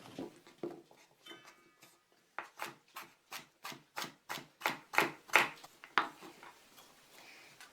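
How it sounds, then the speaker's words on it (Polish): A knife slices the thin part of a parsley root into rounds on a cutting board for Polish white-sausage bean soup. About a dozen crisp, evenly paced chops ring out close up, with no talking. "tę cieńszą część pietruszki pokroję w plasterki"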